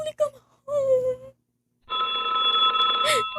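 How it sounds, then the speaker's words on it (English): An old telephone bell rings in a radio play of Sorry, Wrong Number, a sustained loud electric ring arriving after a woman's brief speech and a short pause. "Oh, let it ring."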